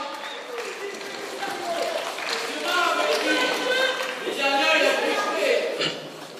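A crowd at a wrestling event in Serifontaine applauds and cheers at a middling distance, the clapping swelling and fading, with voices mixed in.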